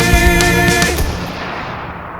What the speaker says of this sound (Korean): 곧이어 들리는 총소리